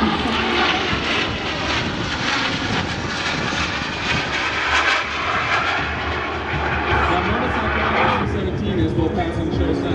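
Boeing C-17 Globemaster military jet flying low past show center at an air show, a loud continuous roar sweeping by with crowd and announcer voices audible underneath.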